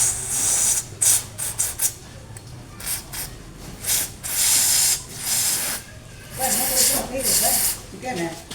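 Cleaner sprayed in short hissing bursts onto the clogged fuel injector of a 2015 Honda Beat FI scooter, several spurts of a few seconds each separated by pauses, with people talking in the background.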